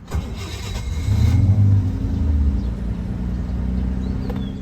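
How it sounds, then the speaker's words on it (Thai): A Daimler DS420 limousine engine cranks briefly after the start button is pressed, catches and settles into a steady mid-pitched idle, heard close and alone without speech. "เปิดไฟเข้าปุ๊บ กด ปุ่มสตาร์ท"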